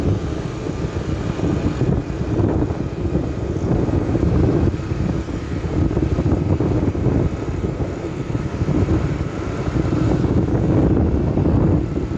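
Cold wind roars past during a night motorcycle ride from Rawalpindi to Islamabad, a loud, continuous buffeting rush with engine and road noise blended underneath.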